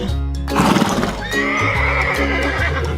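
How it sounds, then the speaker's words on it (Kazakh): A horse gives a loud, close whinny, a quavering neigh that rises and trembles for a couple of seconds, with no voices present. "Жылқы."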